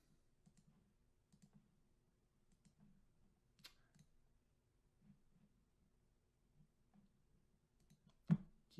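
Quiet, scattered clicks of a computer mouse button come in small bursts, with one sharper, louder click near the end, in a silent room.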